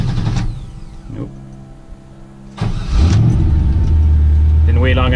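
A cold LS-swapped Chevrolet C10 truck engine cranks briefly, stalls, then cranks again and fires into a loud, steady idle, with a short rise in revs near the end and some talk early on.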